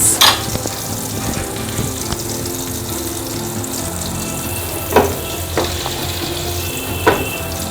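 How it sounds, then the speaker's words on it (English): Palm oil simmers in a pot with a steady frying sizzle, broken by a few sharp clinks or splashes now and then, and no voices. "So you can just let the palm oil simmer for maybe 2 to 3 minutes before you add your groundnut oil into it"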